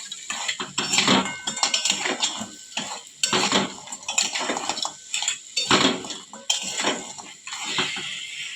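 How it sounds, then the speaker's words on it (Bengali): Crabs being stirred as they sauté in a pan: a utensil scrapes and clatters against the pan in steady rhythmic strokes over a soft sizzle, close and fairly loud. "সব কাঁকড়াগুলো দিয়ে দিলাম, তারপর আবার নাড়িয়ে নেব"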